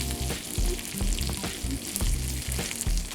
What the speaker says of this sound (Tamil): இந்த குண்டு மிளகா இதில் போட்டு வதக்கும்போது இந்த மிளகாவோட ஃப்ளேவர் வந்து இந்த தாளிப்பில் இறங்கி வரும்